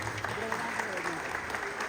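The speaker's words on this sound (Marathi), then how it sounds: "सर्वांनी एकदा जोरदार टाळ्यांचा कार्यक्रम झाला पाहिजे।" An audience at a factory safety week program claps with steady, continuous applause, heard faint and somewhat distant beneath a voice.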